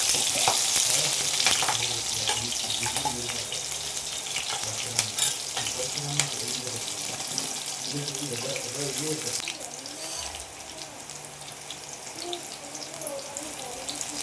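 Onions fry in a pan for jeera rice with a dense, continuous sizzling hiss. Clattering stirs and scrapes break through it, and it stays fairly loud throughout.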